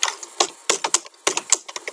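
Keys clatter in quick irregular bursts as a line of code is typed on a computer keyboard, with short pauses between clusters of close, crisp keystrokes and no voice.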